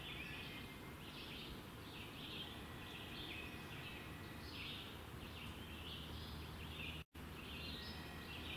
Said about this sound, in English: Oh, I just heard a wood thrush sing.